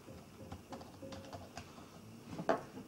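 Someone types a project name on a computer keyboard while saving a new project in ELAN software. The key clicks are quiet and close, irregular and spaced out, with a slightly sharper click near the end and no voice.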